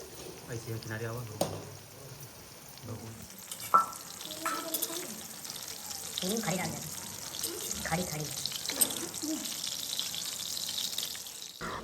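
Sliced capsicum and pointed gourd fry in a pan in a home kitchen, a steady sizzle and hiss with stirring clatter and a few sharp knocks. Someone talks over much of it.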